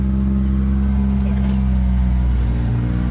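A pickup truck engine idles close by, a steady low droning rumble with constant loudness, while someone talks over it.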